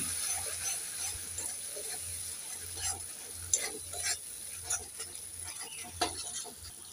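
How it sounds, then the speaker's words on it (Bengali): Ten to twelve green chillies fry in a pan for a Bengali koi fish mustard curry and are stirred, giving a soft continuous sizzle with scraping stirring strokes and light clinks at a close distance. "একটু নেড়ে চেড়ে দিয়ে দেব।"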